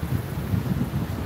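Wind gusts across an open street in Leeuwarden, a steady low rumble and buffeting against the microphone with no voices.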